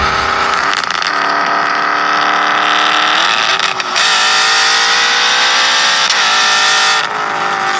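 Porsche 911 GT3 RS engine running loud and close, a sustained high-pitched roar with revs rising and settling in steps, alone without talk.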